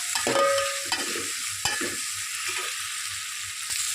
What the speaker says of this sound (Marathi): हळद छान तेलामध्ये अशी परतून द्यायची